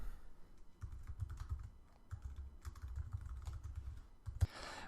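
Keys clatter on a computer keyboard as code is typed into Xcode, with quiet, steady bursts of tapping close by and no talk.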